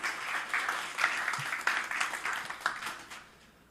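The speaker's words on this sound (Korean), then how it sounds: "큰 박수로 환영해 주세요." Applause welcoming a speaker to the stage at a CEO club networking party in Ulsan: a room of steady clapping in rolling surges, moderately distant and soft, fading out toward the end.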